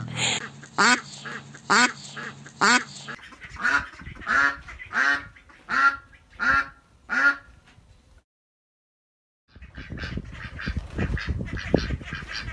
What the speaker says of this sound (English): the male duck has sort of a breathy, raspy, whispery, it's a lower sounding quack. And the female duck is louder, more distinct.